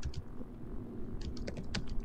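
Close, rapid clicking of computer keyboard keys during gameplay, uneven bursts of clacky keystrokes with short pauses, and no voices over it.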